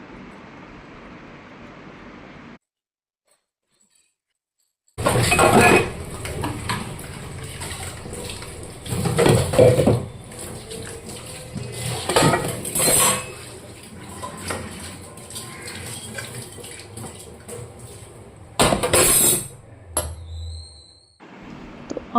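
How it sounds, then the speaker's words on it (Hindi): Dishes, pots and cutlery are washed in a kitchen sink under running water, with clattering and scraping that swells and fades, a few louder knocks of metal, and a brief silent gap near the start. "तो अभी मैं बर्तन वॉश कर रही हूँ"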